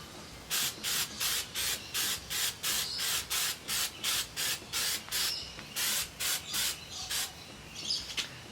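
Aerosol spray paint hisses in about fourteen short, evenly spaced bursts while light coats go onto Jeep wheels, each spurt close and crisp with brief gaps of quiet between.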